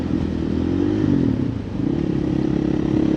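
A 2024 KTM EXC-F 500 TPI dirt bike, tuned on its stock ECU and fitted with an FMF muffler, roars in a steady, close, throaty drone with slight fluctuations while under way.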